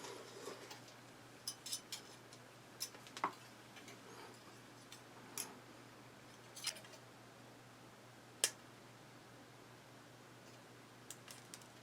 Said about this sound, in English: You can cut this with a pair of scissors